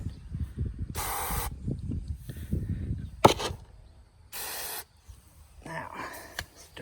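Water spraying in bursts onto chicken feed to dampen it, two or three distinct hissing sprays close to the microphone, separated by handling noise and brief pauses.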